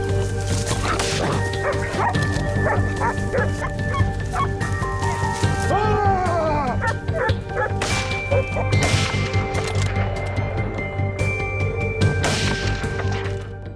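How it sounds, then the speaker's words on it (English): Hunting dogs track wild boars, barking, yipping and whimpering almost without pause. Several dogs sound loud and close, with occasional thumps and crashes underneath. "During the day, hunters use hunting dogs to assist in tracking wild boars"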